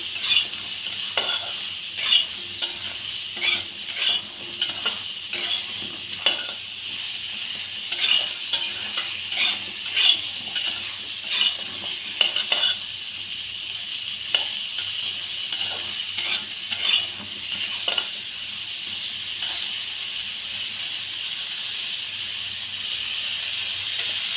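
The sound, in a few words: pointed gourd curry: frying with turmeric and salt, stirring in pan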